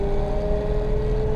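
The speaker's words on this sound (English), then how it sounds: "You can hear immediately how noisy that gearbox is." A Mercedes-Benz 300 SL drives along with its noisy gearbox producing a steady, prominent high-pitched gear whine over a continuous low engine and road drone.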